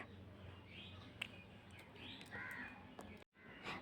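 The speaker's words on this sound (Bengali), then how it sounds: "পাখিদের কিচিরমিচির আওয়াজ শুনতে পাওয়া যাচ্ছে" Birds call intermittently outdoors, including a few crow-like caws and chirps, fairly faint over a soft background hiss.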